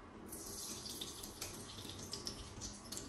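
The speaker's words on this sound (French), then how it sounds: "on va verser l'huile de palme" Palm oil pours steadily into a large cooking pot for a fisherman's soup, a soft continuous liquid stream that runs quietly with no speech.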